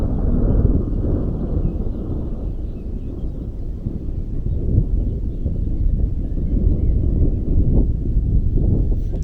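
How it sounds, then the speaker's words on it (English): Low, continuous rumble of thunder rolling through the Zagori Mountains near the village of Vradeto, steady and broad with gusty wind noise on the microphone and no voices. "You can hear thunder"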